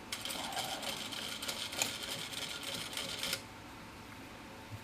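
A Vevor M2 sewing machine slowly stitches marine vinyl, a rapid mechanical clatter running for about three seconds before stopping, leaving a quiet room tone.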